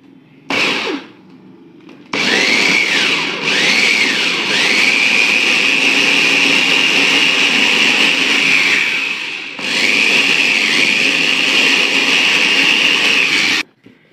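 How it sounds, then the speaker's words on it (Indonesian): An electric food chopper purees pumpkin with milk: a short opening whir, then a loud, strained motor drone lasting several seconds, a brief stop, and a second long burst that cuts off cleanly, with no talking. "Baru kita haluskan pakai chopper ya"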